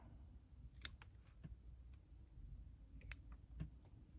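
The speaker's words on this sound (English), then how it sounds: "And I think we're actually going to trim this back a bit as well." Scissors pruning branches of a Chinese elm bonsai, a few faint crisp snips spaced irregularly over a low background hum, with no speech.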